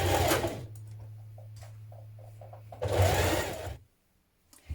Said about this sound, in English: Place on your tie ends with a pin, and we're now going to baste that in position.